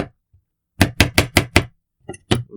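A knife chops hard through a peeled garlic clove on a board: a quick run of five loud, crisp knocks, then a couple of softer taps and one final strike, close and alone without any talk.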